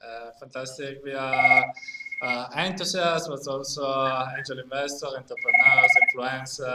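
A telephone rings in two bursts of repeated electronic trills, one early and one near the end, underneath continuous conversational speech during an interview.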